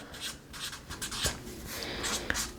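A pen writes a word on paper, with soft scratchy strokes in short bursts and a couple of sharper taps, close and quiet, alone.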